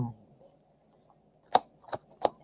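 A deck of tarot cards is shuffled close by: near silence, then three or four short, crisp papery bursts in quick succession.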